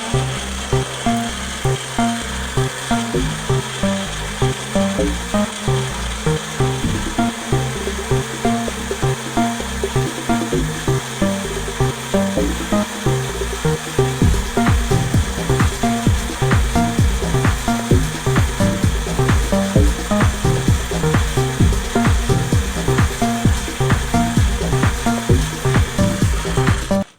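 Magic Bullet blender whirring fruit and rice milk into a smoothie, a loud continuous grinding motor roar that grows harsher and more rhythmic in its second half, with no talk over it.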